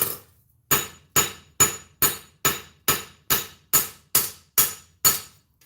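Double peen hammer striking hot metal during forging, eleven loud ringing blows evenly spaced about half a second apart, close and sharp, with no talk between them.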